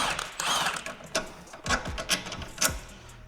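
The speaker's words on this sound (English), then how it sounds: "Next, I will unbolt the 18mm on the shock absorber." Wrench or ratchet clicks and metallic clunks while an 18mm bolt is undone on the shock absorber of a BMW M140i during a suspension upgrade, a few short bursts close by, with no talking.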